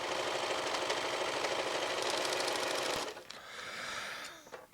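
A restored vintage Montgomery Ward sewing machine, once fully seized, runs fast and steady for about three seconds with a dense mechanical whirr and rhythmic needle clatter. It then stops, leaving a few soft clicks and a brief fainter run.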